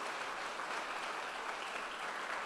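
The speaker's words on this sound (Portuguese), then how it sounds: "Então aplauda o Senhor" Church congregation at a Portuguese-language sermon applauds in praise, a quiet, distant but continuous wash of many hands clapping over a few seconds, with no voices standing out.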